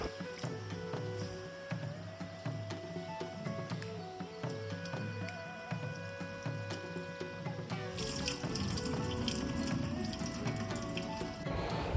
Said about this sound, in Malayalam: നല്ലപോലെ വെള്ളത്തിലിട്ട് കഴുകി ഊറ്റി എടുക്കേണ്ടതാണ്